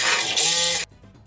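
An angle grinder cuts steel hat channel on a school bus roof during a roof lift, giving a loud, harsh, steady high-pitched grinding roar that stops abruptly, leaving near silence.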